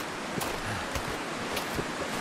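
Wind blowing across a snowy wilderness in the survival game The Long Dark, a steady, hissing rush of air with small gusts swelling and fading, heard alone without talk.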